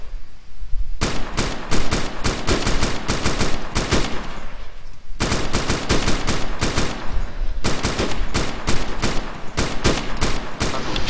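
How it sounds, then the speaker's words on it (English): Sustained automatic gunfire in the video game ARMA 2 comes in long, loud bursts of rapid shots, separated by brief pauses, with no talking. "Shooting over your head"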